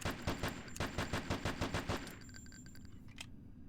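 Rapid regular gunfire rings out during target practice in a video game, a steady automatic burst of evenly spaced shots for about two seconds, then a quieter tail with a single later shot.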